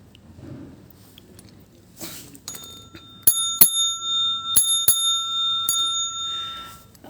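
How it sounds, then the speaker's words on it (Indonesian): A bicycle bell rings clearly several times in quick bright dings, following some quiet chewing-like rustles, with the metallic tones ringing on and fading between strikes. "sebenarnya rindu sekali yang mendengar suara bel seperti begitu"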